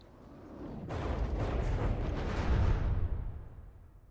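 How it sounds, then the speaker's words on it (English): Horizontally fired missiles strike a ship in From the Depths, a naval combat game. A sudden blast swells into a heavy, sustained roaring rumble that peaks and then fades over a few seconds. "he's got this thing on the back of it that's using horizontally fired missiles"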